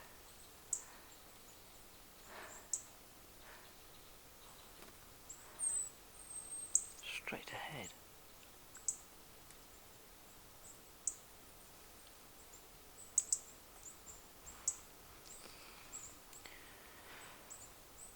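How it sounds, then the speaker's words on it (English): Faint, thin high chirps of robins repeat sparsely at a distance in winter, with soft whispered speech and rustling close by. "I'm quite literally surrounded by birds, robins."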